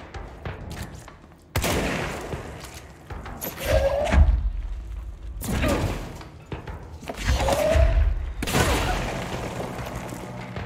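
Shotgun blasts in the action game Control, several heavy booming shots spaced a couple of seconds apart amid game noise, loud and close.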